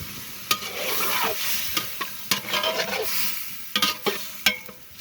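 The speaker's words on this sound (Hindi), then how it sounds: "अब जो है ना इसमें हमने अदरक और लहसुन का और हरी मिर्च का जो पेस्ट बनाया था वो इसके अंदर डालेंगे" Ginger, garlic and green chili paste hitting frying chicken in a village kitchen, a steady sizzle with intermittent clacks and scrapes of a spoon stirring the pan, no voices.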